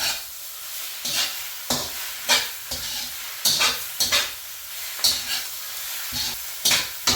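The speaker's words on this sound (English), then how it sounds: "now we're going to go in with that first set of vegetables and meat. Stir fry that all together." Vegetables and meat stir-fry in a wok for drunken noodles, with loud sizzling that swells in repeated bursts as the food is tossed and scraped, close and alone.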